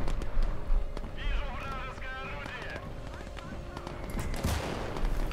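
Gunfire aimed at a tank in the WWII-era strategy game Last Grenadier 1946: scattered shots and a rattling burst beneath steady battle ambience, with a louder crack near the end.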